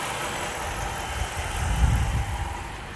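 A Chrysler 300C with the 5.7 V8 Hemi idles steadily nearby, its deep low rumble holding even with a slight swell in the middle and no talking.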